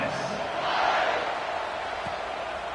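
A stadium crowd at an American football game roars steadily during a fourth-quarter kickoff, a broad, distant wash of cheering that swells slightly and then holds.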